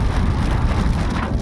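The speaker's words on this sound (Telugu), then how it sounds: "మాచర్ల దాటిన తర్వాత వర్షం స్టార్ట్ అయిపోయింది." Rain pours down during a road journey past Macherla toward Arunachalam, a dense, steady hiss of drops with no voices.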